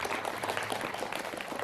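An audience at a student theatre performance claps in a steady, moderately faint wash of applause with no talk over it.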